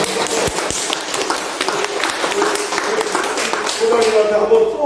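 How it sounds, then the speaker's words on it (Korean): A lecture audience on plant nutrients and health claps in a loose, scattered burst of hands, close and lively, with a voice and a brief tonal sound surfacing over the clapping near the end. "박수 한번 주세요."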